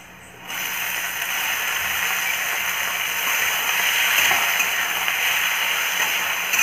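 Chopped tomatoes hit a hot pan and set off a loud, steady frying hiss that starts suddenly and holds evenly for several seconds, close and continuous.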